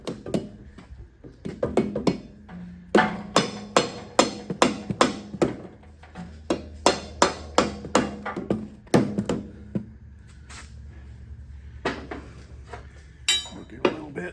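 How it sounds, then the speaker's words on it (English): A soft face hammer taps repeatedly on a Honda VTX 1300 motorcycle rear tire being fitted onto the wheel, producing dull close thuds in uneven clusters, with a low hum and some quiet movement between strikes. "And then you just start pumping it in with your soft face hammer."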